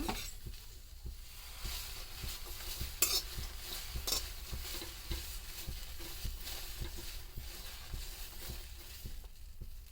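Avarekalu field beans being dry roasted and stirred in a pan, giving a steady scraping and rustling with occasional light clinks of a spoon against metal, fairly quiet and continuous, with no talking.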